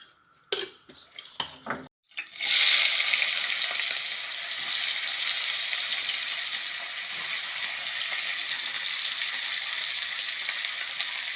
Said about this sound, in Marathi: आता आपण ही पहिली तेलावर नुसती फ्राय करून घेऊ